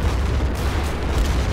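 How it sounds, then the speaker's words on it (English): A grenade explosion in the game Darkest Hour: Europe '44-'45 fills the space with a loud, heavy, rumbling roar that stays thick and deep throughout, with no voices. "Grenade."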